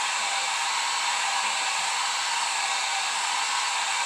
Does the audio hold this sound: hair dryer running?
yes